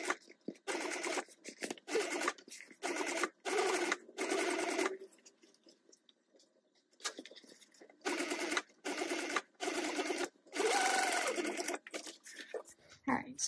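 A sewing machine stitches vinyl for a tote bag in repeated rapid whirring bursts of a second or so each, separated by short pauses, close and clear, with brief speech between runs.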